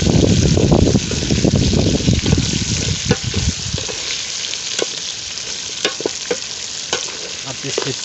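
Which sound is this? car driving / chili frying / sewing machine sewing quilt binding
chili frying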